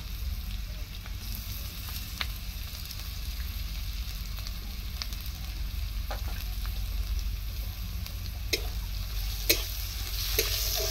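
Ginger garlic paste sizzles with browned onions in hot oil, a steady crackling fry with occasional sharp pops and the light scrape of stirring, close up and without talk.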